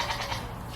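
A Nigerian Dwarf goat gives a short, close bleat, a single brief wavering call heard alone.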